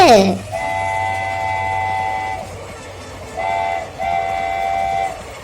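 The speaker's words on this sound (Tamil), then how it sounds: "என்ஜின் டிரைவர் இப்படித்தான் ஆரன் அடிப்பார் ஒலி எழுப்புவாங்க" Passenger train horn sounded by the engine driver in the hot summer, two-tone blasts: one long blast, then two shorter ones after a pause, loud and close over rumbling rail noise.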